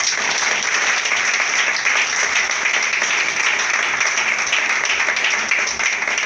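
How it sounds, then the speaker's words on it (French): A church congregation applauds in a long, dense, even burst of clapping that holds steady and loud throughout, with no pauses. "Acclame mon Dieu."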